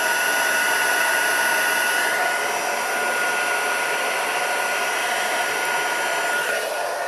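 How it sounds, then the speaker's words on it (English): A heat embosser held in one spot melts embossing powder on a card, giving a loud, continuous hair-dryer-like whoosh and whine that holds steady close up. "I'm a hold it in one place, let it melt, move it on"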